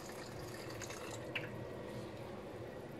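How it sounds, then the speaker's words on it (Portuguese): A little water added to a pot of chicken soup, a quiet continuous trickle and pour with a faint drip-like splash partway through, steady and close, no talking. "Vou acrescentar agora um bocadinho de água."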